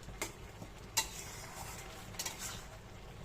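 Spatula stirring raw papaya shukto simmering in milk in a pan, producing faint, sparse scraping and clinking taps against the pot over a low background hiss, with no voices.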